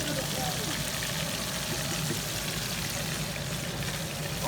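Fish frying alongside ribs on a grill, a continuous close crackling sizzle with a bubbling, pouring texture, with someone talking faintly over it.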